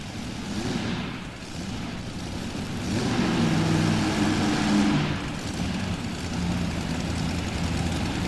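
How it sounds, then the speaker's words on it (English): A Massey Ferguson tractor idles on the starting line at a tractor pull during the 1991 National Farm Machinery Show, its low engine rumble steady and fairly loud, swelling slightly midway through amid an indoor arena's ambient noise. "Tractor, Massey Ferguson tractor that he drives here, folks."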